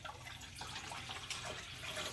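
Water pours into a cooking pot in a home kitchen, a continuous close gushing splash with slight variations in flow and no voices.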